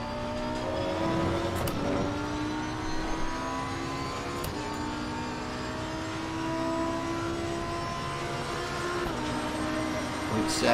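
A car engine in an Xbox Series X racing game holds a steady, loud, whining drone with shifting pitch throughout, broken by a few sharp clicks and bumps and rising a little at the end.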